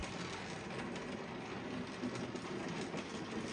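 A J15 model train engine pulls out of its shed with a steady, soft rolling rattle of wheels on track, faint and continuous throughout, with no voices.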